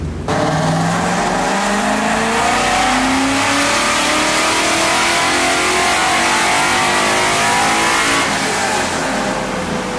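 A Coyote V8-swapped New Edge Mustang drift car roars continuously at high revs, its engine note climbing and holding loud and close for the whole run, with no talk heard over it.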